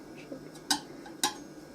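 A knife blade scrapes and taps against a coconut shell while prying at it: two sharp clicks of metal on hard shell stand out over faint soft scraping, close and quiet.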